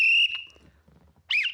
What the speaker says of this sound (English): We prematurely blew some whistles